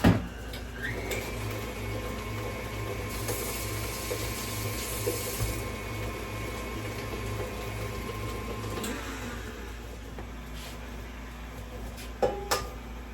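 A stand mixer works biscotti dough with a steady motor whir and hum, its pitch shifting lower partway through as the machine is slowed while eggs are added.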